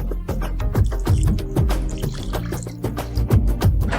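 Water poured into a pan of lamb shank (nalli) curry, a steady sloshing pour with clattering and stirring, loud and close, with no talk.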